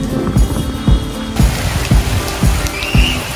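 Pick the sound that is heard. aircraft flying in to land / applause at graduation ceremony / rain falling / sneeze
rain falling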